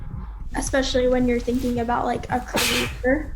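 A person sneezes once, loudly and up close, during a podcast conversation, the burst coming near the end just after talking that runs through most of the moment.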